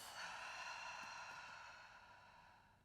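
A single long breath is let out through the mouth during a yoga flow. It comes right after a downward facing dog and sounds soft, close and airy, fading slowly with no talking.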